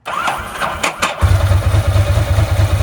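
A starter whirs briefly with a few sputters, then a Ducati 907IE motorcycle engine catches and settles into a loud, pulsing idle.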